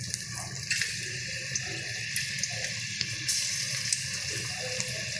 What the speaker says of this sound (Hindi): तेल हमारा गर्म हो चुका है तो पकौड़े हम एक एक करके तेल में डालते जाएंगे।